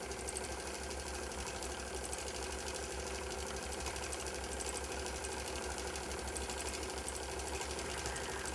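A longarm quilting machine stitches a stippling pattern across a quilt with a steady, fast mechanical hum and rhythmic needle chatter that continues unbroken throughout, with no talking.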